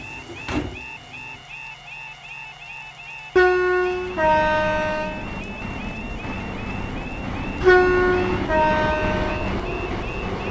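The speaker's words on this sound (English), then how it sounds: "The train now approaching platform 1 does not stop here." A video game train rumbles past a platform steadily as bright, sustained horn tones sound twice, each fading slowly, with no voices.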